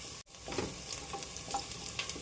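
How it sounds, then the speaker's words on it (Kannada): Sliced onions fry in a generous ladle of oil for mutton curry, giving a steady, close sizzle with light stirring clinks. The hiss drops out for a moment near the start. "ಈಗ ಈರುಳ್ಳಿ ಫ್ರೈ ಆಗಿದೆ."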